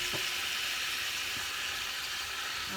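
Fish sizzles in olive oil in a pan for a seafood paella, a steady, close hiss with a few faint clicks and no talk.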